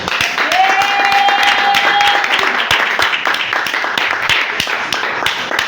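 Church congregation applauding and cheering at a prophet's sermon, dense rapid clapping throughout with a sustained voiced shout rising over it early on, crowd noise loud and close.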